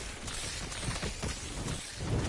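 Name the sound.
thunder and rain in a video game (Revelations zombies map)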